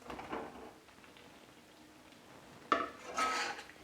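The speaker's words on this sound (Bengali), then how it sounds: "এবার আমি এর মধ্যে ভেজে রাখা আলুটা দিয়ে দিচ্ছি।" Fried potatoes tumble into a pan of spices for a Bengali niramish aloo dum, giving a soft clatter early, a quiet stretch, then a sharp utensil knock and a brief burst of sizzling scraping.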